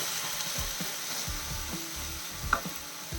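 Ground tomato frying with green chillies and spices in a pan for a squid roast, a soft continuous sizzle with faint stirring scrapes and one small pop, close and low in level.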